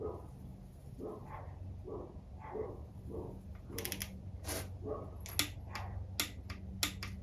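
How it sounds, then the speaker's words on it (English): A wrench tightens a bolt on an old Honda Civic EF hatchback during an engine rebuild, with faint creaks early on, then a series of quiet, sharp ratcheting clicks in short bursts. "Now we're just gonna tighten this down."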